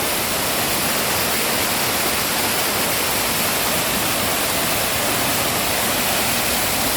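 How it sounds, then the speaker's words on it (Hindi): Loud, steady roar of a waterfall, water rushing continuously and close by with no pauses. "सबसे बड़ा आबशार, बहुत ही तेज़ पानी"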